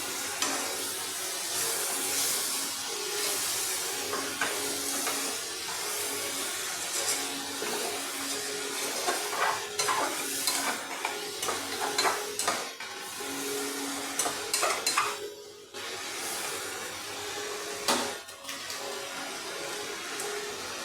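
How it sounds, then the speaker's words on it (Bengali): Poppy seed paste mixed in water bubbles and sizzles in a pan for raw banana kofta curry, stirred with scattered scraping clicks over a steady wet hiss, no talk. "বেটে রাখা পোস্ত জলে গুলে দিয়ে দিলাম"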